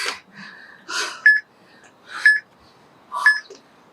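Short electronic beeps from a workout interval timer at the end of a week 3 exercise session, three evenly spaced pings about a second apart, each following a breathy burst, with no talk.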